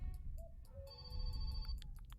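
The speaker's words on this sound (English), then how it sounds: "Wait, that's a phone call." A telephone rings in a room, its high electronic tones repeating in short bursts over a steady low background rumble.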